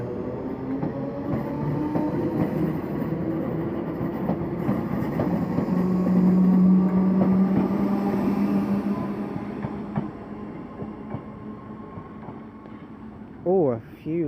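Merseyrail Class 508 Wirral electric train departing Chester for Liverpool Central: a sustained low motor hum and rolling rumble with rising whine, steady and fairly loud throughout, ending with a brief squeal, with people talking over it.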